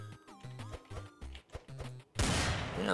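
Video game revolver-style magnum hand cannon: a run of separate electronic bleeps and blips, then a sudden loud, sustained burst of heavy gunfire.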